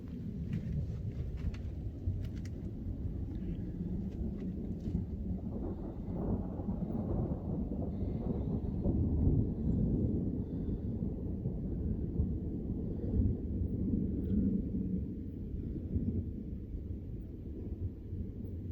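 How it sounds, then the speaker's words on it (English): Torrential storm rain roars in a dense, steady wash for nearly twenty seconds, with low rumbling that suggests thunder and wind beneath it. "I don't know if you can hear the rain, but it's torrential."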